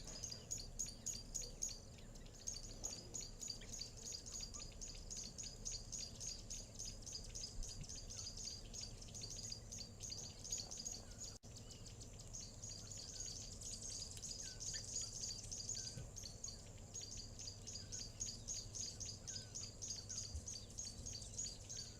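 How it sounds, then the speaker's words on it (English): Steady chorus of birdsong with repeated high chirps and tweets throughout, insects buzzing faintly in the background, no voices. "nice to hear all the birds"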